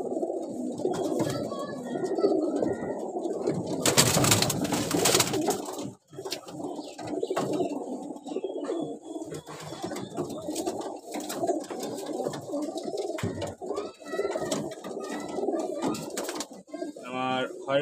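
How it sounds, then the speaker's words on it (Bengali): Rooftop flying pigeons coo in a soft, repeated rhythm close by, with other birds calling and a person talking intermittently in the background. "এগুলো হলো সব উড়াল কবুতর"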